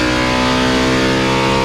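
A Ford C3 NASCAR racing engine revs hard and loud up close, a dense buzzing roar held steady for the whole moment.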